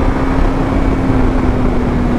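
Suzuki GSX-R750 motorcycle engine pulling under throttle, a loud steady drone with a sustained tone heard from close by, mixed with wind rush.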